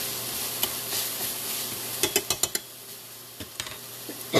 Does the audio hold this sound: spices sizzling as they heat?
yes